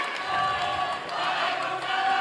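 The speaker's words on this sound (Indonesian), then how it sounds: "silakan beri tepuk tangan yang meriah dulu untuk sesi tanya jawab tiga calon presiden ini" Audience applause and cheering fill a hall at a televised Indonesian presidential debate, a dense, steady crowd roar lasting a couple of seconds with no talk over it.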